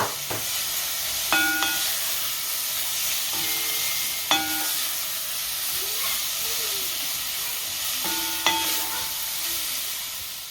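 Vegetables dropped into a hot pan for a lobster and prawn curry, giving a steady close sizzle and hiss with a few sharp clatters and stirring knocks spaced through the clip, no talking.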